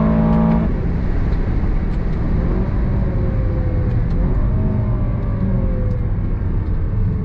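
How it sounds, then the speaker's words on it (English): A 2023 Aston Martin DBX 707 SUV engine revs hard and climbs through the gears, a loud, continuous roar with rising tones, close up and with no talking. "Love the sound of that engine."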